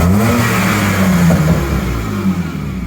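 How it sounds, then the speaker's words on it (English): A BMW E36 drift car with E46 control arms drives along, its engine revving loud and close in a continuous throaty drone. "Perfectly aligned, drives straight, responds to my steering input."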